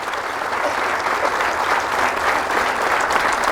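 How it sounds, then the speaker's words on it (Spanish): A church congregation applauds in a steady, dense round of clapping that holds at an even loudness throughout, with no break. "Fuerte el aplauso a la palabra del Señor."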